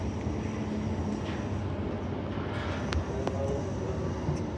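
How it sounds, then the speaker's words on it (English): A freight train sits near the platform at Midland Station, giving off a low, steady rumble with a few faint clanks and squeaks over it. "still next to the freight train, creating ambience"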